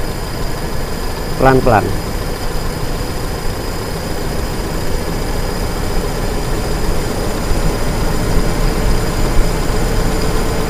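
A misfiring car engine runs steadily close by while its idle is raised with the RPM adjustment bolt, a low continuous drone with someone speaking briefly over it.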